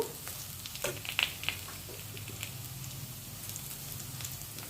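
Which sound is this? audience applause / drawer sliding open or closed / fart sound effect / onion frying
onion frying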